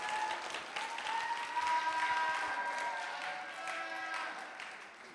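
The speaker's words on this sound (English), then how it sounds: "Please give them an applause." An audience at an international cultural academic conference applauds student presenters, a steady wash of clapping filling the hall for several seconds and tapering off toward the end.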